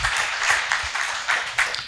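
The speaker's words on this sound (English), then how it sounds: "Let's give them a round of applause." A crowd applauding steadily, dense clapping filling the room at an even level throughout.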